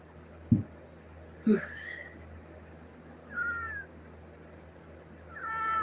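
A cat meows several times, faint and fairly close, over a steady low background hum. The meows are short, thin cries spaced a second or two apart, with a couple of soft thumps early on.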